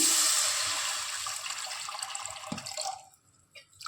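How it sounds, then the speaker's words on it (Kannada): Water pours in a steady splashing stream for a few seconds, then tapers off and stops, leaving a few faint trickles. "ನೀರು ಹಾಕ್ತಾ ಇದ್ದೀನಿ"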